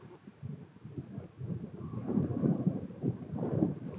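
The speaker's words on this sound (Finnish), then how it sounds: "Ei kuuluko tuuli ja kohina?" Wind rushing over open Lapland fells in Swedish Lapland, a low, gusty roar that builds and surges in waves, loud and close with no talk.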